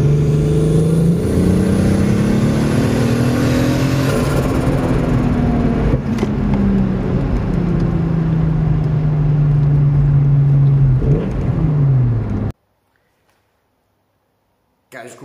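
A VR6 turbo five-cylinder engine with a dead turbo, rated at 410 horsepower, revs loud and close, its pitch climbing and then falling as the throttle closes. It cuts off abruptly into near silence.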